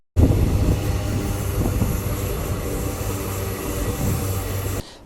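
The Madurai Trivandrum InterCity Express runs along the track with a loud, steady rumble and low droning hum that holds evenly before cutting off abruptly at the end, with no voices.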